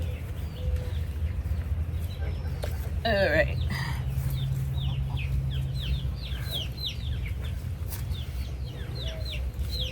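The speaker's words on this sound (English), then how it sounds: "Doggone chickens." Chickens cluck repeatedly nearby over a steady low rumble, with a brief burst of a louder squawk and a person speaking briefly.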